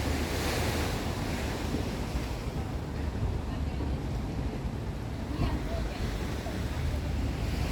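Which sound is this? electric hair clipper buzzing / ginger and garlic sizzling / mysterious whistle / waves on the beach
waves on the beach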